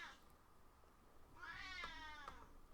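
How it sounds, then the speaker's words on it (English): A house cat meows loudly, one drawn-out yowl rising near the middle after a quiet start, close to the microphone with no talking. "My cat's just yelling."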